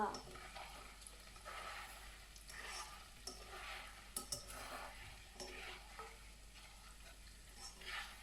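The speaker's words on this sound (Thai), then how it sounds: "นี้เราก็จะทอดให้ เหลืองนะคะ เหลืองกรอบ" Eggs frying for Thai son-in-law eggs, cooked over high heat until golden, sizzle steadily in hot oil. Soft stirring and scraping come through at moderate level without pause.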